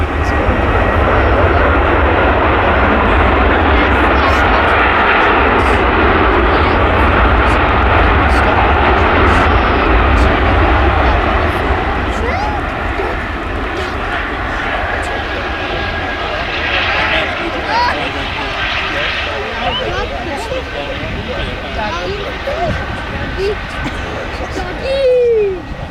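Airbus A330 jet airliner at Manchester Airport, a loud continuous engine roar close by that dominates throughout, with spotters chatting underneath.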